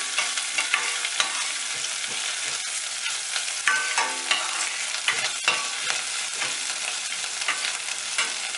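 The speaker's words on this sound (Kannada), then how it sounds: "ಇಂಗಿನ ಪುಡಿ, ಸ್ವಲ್ಪ ಎಣ್ಣೆಯಲ್ಲಿ ಕೆಂಪಗಾಗೋವರೆಗೂ ತಯಾರಿಸೋಣ." Asafoetida powder frying in a little oil in an Indian kitchen while cooking badanikai yengai, a steady close sizzle with crackling spatter and intermittent scraping of a stirring spoon in the pan, and no voices.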